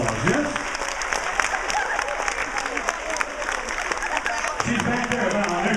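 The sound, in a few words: audience applause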